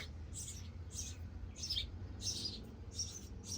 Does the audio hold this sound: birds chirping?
yes